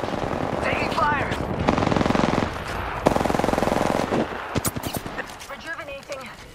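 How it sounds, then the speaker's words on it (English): Rapid bursts of automatic gunfire and shots in a space combat video game, loud and sustained with rhythmic rattling volleys, mixed with game sound effects and voices talking over the action. "And we're shooting."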